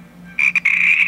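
Cartoonish frog croak from the Sheep Launcher mobile game, a loud close electronic croak broken by a brief gap and then held, with no talking.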